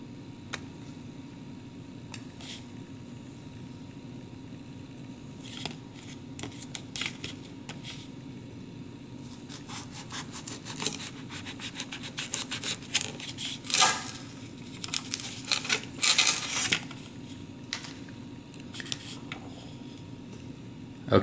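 A knife cutting open a Red Ghost Scorpion pepper on a board, faint irregular clicks and taps over a steady background hum, growing busier toward the end.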